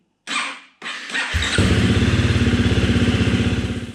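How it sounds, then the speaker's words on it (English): A KTM 350 dirt bike engine kicks to life after a couple of sputters, then settles into a steady, rhythmic idle, loud and close. "Now I like to start the engine and just let the oil circle"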